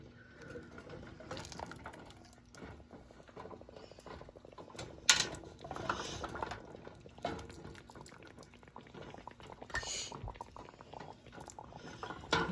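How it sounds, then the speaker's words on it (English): Caramel for canning boils in a pot with quiet, irregular bubbling, popping and spattering, and no one speaks. "so it stops boiling all over the place"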